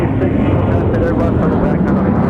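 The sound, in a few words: Delta Boeing 717 jet departing airport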